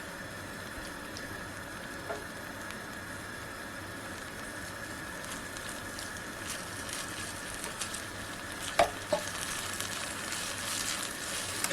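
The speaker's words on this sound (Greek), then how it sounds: "Θέλουμε να σοταριστεί καλά το μπέικον για να βγάλει τα αρώματά του." Bacon sautéing in a hot pan, a steady low sizzle running the whole time with a few small pops and crackles, heard close and alone without any talk.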